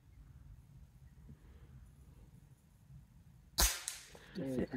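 A single sharp gunshot fired at a target cracks out loud and close near the end, after several seconds of low background rumble, followed by a brief murmur of voices.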